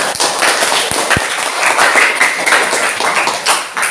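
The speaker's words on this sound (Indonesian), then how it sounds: "Kita beri tepuk tangan dulu buat kita semua." Elementary students from grades five and six clap together in a classroom, a short burst of close, uneven handclaps with a few sharp taps standing out.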